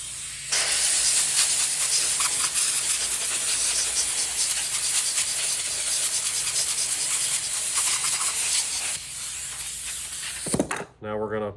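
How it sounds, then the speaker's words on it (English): Compressed air blasts hard and steadily to clean a 7.3 diesel injector cup, a loud continuous hiss lasting about ten seconds before cutting off, followed by a brief clatter. "I'm gonna blow this with compressed air again"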